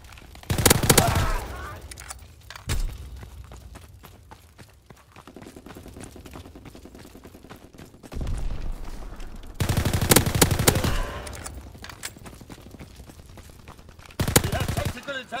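A Nambu gun in a video game fires in several loud bursts of rapid shots, separated by quieter gaps with background game noise and a voice.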